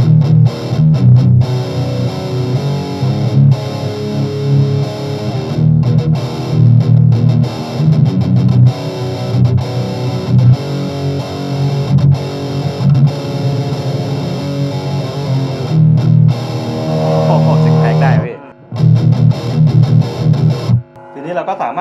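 A metal-style distorted electric guitar through a NUX Mighty Amp plays heavy, chugging riffs, loud and continuous with short abrupt stops near the end, and someone talks at times.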